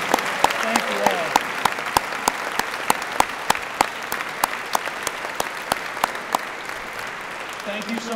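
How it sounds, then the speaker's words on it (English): Audience applause at a gathering honouring speakers, with sharp, evenly spaced claps standing out over a softer background of clapping. "we're just going to ask for another round of applause from Scott, Nancy, and Heather Kingsley"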